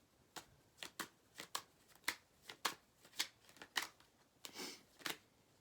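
Tarot cards being shuffled up close: a quiet, steady series of about a dozen crisp riffling slaps and flicks, evenly spaced and with no voices over them.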